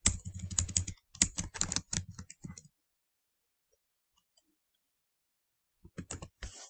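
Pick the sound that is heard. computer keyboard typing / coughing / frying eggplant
computer keyboard typing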